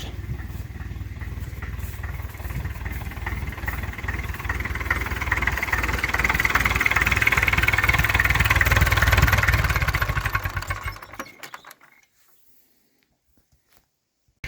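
A homemade tractor fitted with a ship engine runs with a loud, steady chugging rumble that swells, then winds down and cuts off, leaving near silence for the last few seconds.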